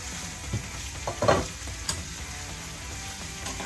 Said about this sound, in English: here I'm cooking the vegetables